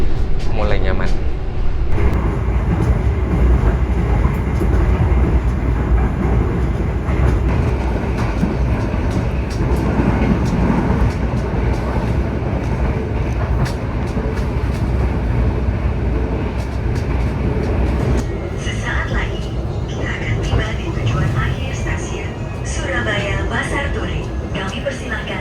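Steady rumble of an Ambarawa Ekspres passenger train carriage rolling on rails in Indonesia, continuous and loud, with rattling and a shift in tone toward the end.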